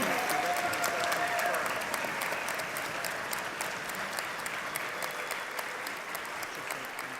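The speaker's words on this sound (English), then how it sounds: "Let's give our graduates a round of applause" Audience at a Central Ohio Technical College autumn commencement applauds the new graduates, a loud, continuous roar of many hands clapping that fades slightly toward the end, with faint crowd murmur beneath.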